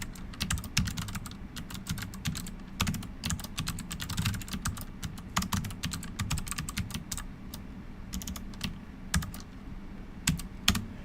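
Fingers type a Prolog query on a computer keyboard, a quick irregular run of light plastic key clicks with brief pauses, close and fairly quiet, with no talking.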